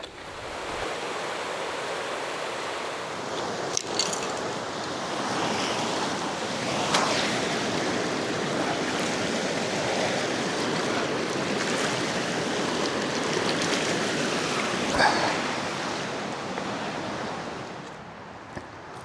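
A river flowing near a campsite on an abandoned highway, a steady, full rush of water with a few faint knocks, with no voices.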